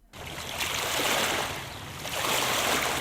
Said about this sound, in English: waves from the lake have been creeping closer to town